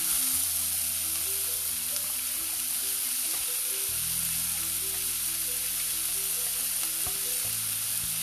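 Onions frying in oil for an onion chutney, a constant close hissing sizzle with low clatter and occasional stirring knocks beneath it.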